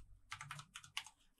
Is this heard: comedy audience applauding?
no